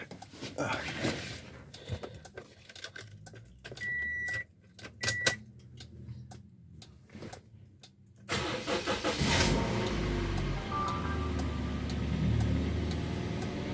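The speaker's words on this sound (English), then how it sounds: "Check it by start the engine." A car parked in a dark spot with a faulty remote key and auto-locking doors: scattered clicks and key jangling, then the engine cranks and catches, settling into a steady, fairly close idle.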